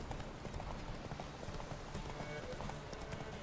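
Roach, a horse in The Witcher 3, gallops during a race with steady, rhythmic hoofbeats that run close and continuous from start to finish, with a faint voice now and then.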